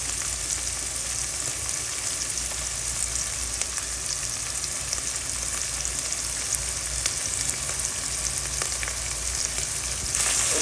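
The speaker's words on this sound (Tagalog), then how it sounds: "ginigisa ko na po ang ating bawang, sibuyas at ang ating luya" Garlic, onion and ginger sautéing in a pan for ginisang monggo, a steady dense sizzle and crackle that stays constant and close throughout with no talking.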